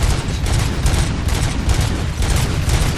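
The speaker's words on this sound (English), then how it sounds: "Gunshots? What's going on?" Rapid, dense gunfire erupts in the video game RoboCop Rogue City, a loud continuous volley of overlapping shots with no pauses and no voices.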